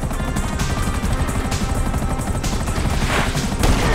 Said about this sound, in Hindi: और ये हेलीकॉप्टर भी आ गए यार।